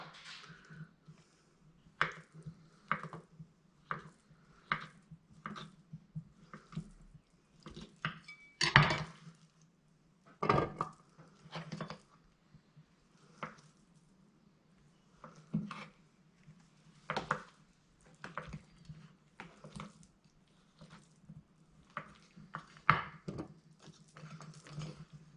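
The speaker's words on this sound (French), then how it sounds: "Je vais mettre directement mes ingrédients prêts dans un bol" Salad ingredients, including small pieces of cheese, dropped and tipped into a bowl, giving scattered light clinks and taps of dishes and utensils at close range over a low steady hum, with no talk.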